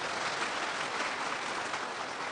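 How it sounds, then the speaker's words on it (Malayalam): Quieter, more distant applause from a church congregation, an even patter of clapping that runs the whole time with no talk. "ഒന്ന് കൈയടിച്ച് കർത്താവിനെ മാത്രം"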